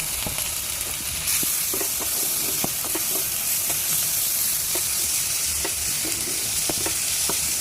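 Ginger garlic paste, green chilli and ground spices fry in a pan, a steady close sizzle with scattered crackling pops and occasional stirring, and no one speaking.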